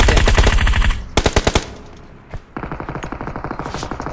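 Rapid automatic gunfire from the BGMI battle royale game, a dense burst at first, then a handful of loud separate shots, a brief pause, and another steady stream of fire, close and loud with no talking.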